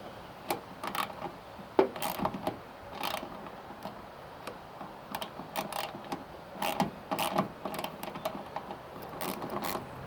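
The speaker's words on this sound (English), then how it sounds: "I'm just using a little socket wrench for this." Small socket wrench tightening a mirror mount on a classic Series Land Rover, heard as a run of quick ratchet clicks in uneven bursts, fairly close and moderate in level, with no talking.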